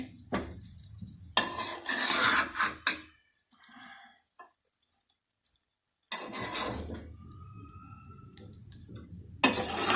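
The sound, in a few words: stirring chicken vegetable fried rice in a pot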